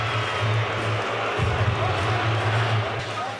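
Boxing arena crowd during the Danny Garcia vs Lamont Peterson fight, a steady wash of murmuring and cheering that swells briefly mid-way, with a low hum beneath and a voice over the noise.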